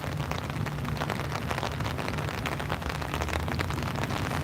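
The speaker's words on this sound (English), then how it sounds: "And yes, we have blue skies with rain." Rain falling under blue skies, a dense, steady patter of drops hitting surfaces and an umbrella, continuous and close with no voices.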